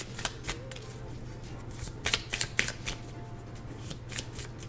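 A deck of tarot cards is shuffled close by, with quick papery riffles and soft snaps that swell briefly midway, fairly quiet and without talk.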